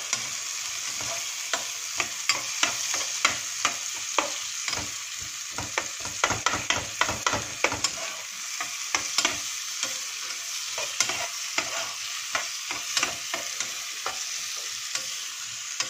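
Vegetables, zucchini and pumpkin among them, stirred in a frying pan with onions and chicken: sharp repeated scraping clicks of a utensil over a steady close sizzle, with no voices.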